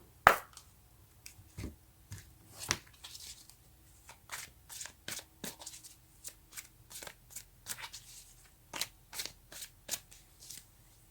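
Tarot cards shuffled and dealt into a row, a steady run of crisp papery riffles and snaps close by, repeating in short bursts with quiet gaps between.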